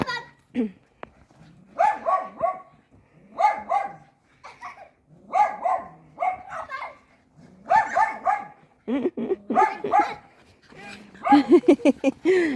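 A dog running outdoors gives repeated sharp barks and yips in irregular bursts, close and loud, with brief whimpers between them.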